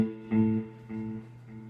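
Guitar tone run through a delay pedal with feedback turned high, a plucked note followed by several decaying echo repeats that trail on, moderately loud and alone.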